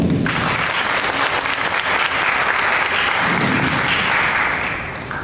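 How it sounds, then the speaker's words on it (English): An audience at a youth Toastmasters leadership event applauds a speaker, broad sustained clapping from a full room that holds steady and then tapers slightly at the end. "Please give a big round of applause to Tej."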